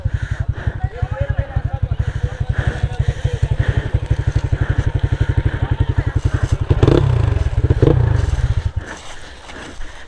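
A motorcycle engine runs on an enduro track in Pokhara, with a steady, rapid close-up thrum that swells into a louder rev near the end before easing off.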